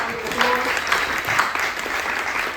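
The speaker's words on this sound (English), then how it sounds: "Give them a round of applause" A crowd at a citywide community gathering on reparations applauds in a steady, dense wash of clapping, with some voices mixed underneath.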